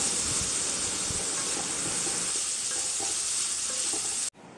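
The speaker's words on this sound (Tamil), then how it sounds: "நல்லா ஹை ஃப்ளேமில் நம்ம கொஞ்சம் நேரம் வந்து வதக்கி விட்டுக்கலாம்" Steady loud sizzling of ivy gourd and onion sautéing in hot oil over high flame, with occasional stirring clinks, continuous until it cuts off abruptly near the end.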